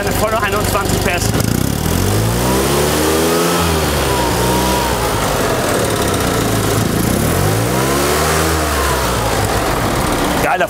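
A 1974 Fiat 500 with its 21 hp engine revs hard and loud, the pitch climbing and falling in two repeated sweeps over a steady idle, close to the microphone and alone.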